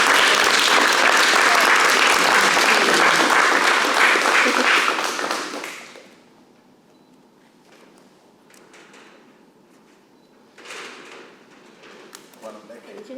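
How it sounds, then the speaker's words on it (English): Audience applause at a stripe promotion during an MMA spring seminar, a loud, dense burst of clapping for about six seconds that stops abruptly, followed by quiet room noise and a few scattered claps and soft talk. "Give her a round of applause."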